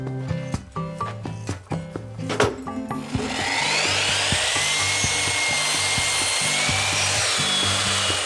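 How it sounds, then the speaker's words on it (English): Wooden joists are cut for a mezzanine floor in a stone cabin renovation. A few sharp knocks give way to a steady, continuous saw cut, with music playing in the background. "So I've just cut a couple of extra joists"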